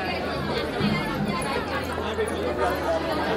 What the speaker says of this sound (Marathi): अलोट गर्दी आहे ही बघा.